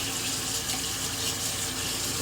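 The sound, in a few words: water running from a tap to heat up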